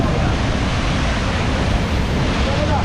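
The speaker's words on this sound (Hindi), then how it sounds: "ये वाटरफॉल है, नीचे से पानी निकल रहा है।" A mountain waterfall beside the road on the way from Mangan to Lachen in North Sikkim, its water rushing down: a dense, constant roar of broadband noise, loud and unbroken throughout.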